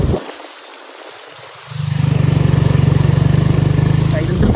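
A motorcycle with its silencer cover taken off starts up after a quiet moment, then runs as a loud, steady, throbbing idle close by, filling the rest of the clip.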